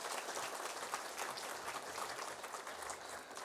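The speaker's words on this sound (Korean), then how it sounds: "박수 한번 보내주시기 바랍니다." A church congregation claps for its choir at a Christmas service, a soft, even wash of distant applause from many hands, faint and steady throughout.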